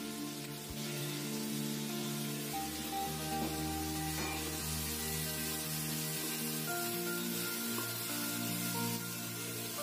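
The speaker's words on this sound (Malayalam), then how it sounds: "ഇനി നമുക്കിതിലേക്ക് അരിഞ്ഞു വെച്ചിരിക്കുന്ന വെളുത്തുള്ളി, തക്കാളി എല്ലാം ചേർത്ത് കൊടുക്കാവുന്നതാണ്" Chopped garlic and tomatoes hit a hot frying pan for a traditional Tamil Nadu parippu saadam, giving a soft, steady sizzle that stays low beneath louder background music throughout.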